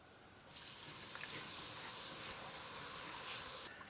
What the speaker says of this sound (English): you're going to put in your vegetable broth and you're going to pour it in slowly and stir as you go